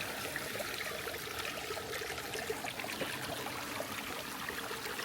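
Water flows steadily in a cold stream, a faint, even rushing and trickling wash with no talk over it.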